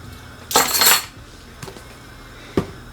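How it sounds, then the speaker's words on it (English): A spoon works through a pot of pasta seasoned with Mrs. Dash garlic and herb and Cajun seasoning for a Cajun Alfredo: a half-second scraping, clattering burst, then two lighter metallic clinks a second apart, close by. "We're going to give this a stir."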